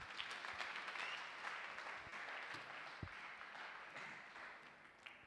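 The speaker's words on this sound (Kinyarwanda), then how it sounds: "mukomere Imana amashyi" A church congregation gives applause to God, a dense, steady patter of many hands clapping at moderate distance, continuous throughout with a few sharper claps standing out.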